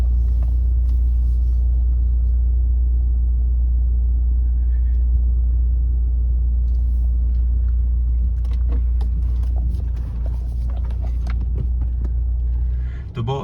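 A 2015 BMW 520D diesel car drives with a steady deep low rumble of engine and road noise, loud and close from inside, with some light rattles and clicks later on.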